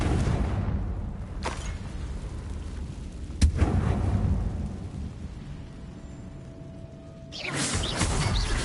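A fiery blasting curse explodes in the video game Hogwarts Legacy, a deep booming burst with a sharp crack partway through and rumbling debris, over continuous low game ambience and a second swell near the end.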